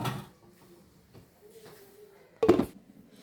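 A lid is set onto a pot of simmering Manthal fish curry, a single sharp metallic clank near the end after quiet kitchen shuffling and a few soft taps.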